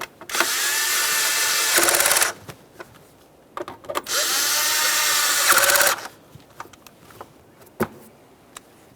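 A power tool snugs down the camshaft position sensor mounting bolts on a 2012-2018 Nissan Maxima 3.5L V6, two loud sustained whirring bursts of about two seconds each, separated by quieter clicks and handling noises.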